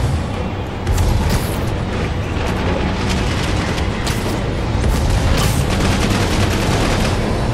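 Enemies firing weapons in the video game Marvel's Spider-Man, a dense, continuous barrage of gunfire and heavy booms that is loud and close, with rapid bursts layered over rumbling chaos.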